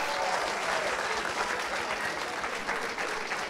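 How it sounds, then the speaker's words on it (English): An auditorium audience at a school panel discussion applauds loudly and steadily, a dense wash of clapping that holds for several seconds without fading. "Would you just also give them a big old round of applause?"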